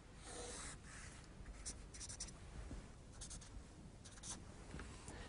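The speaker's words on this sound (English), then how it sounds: "Let's just have a quick sketch." A pen sketching a quick graph of a straight line joining two points on paper, heard as soft continuous scratching strokes with short bursts, close and quiet.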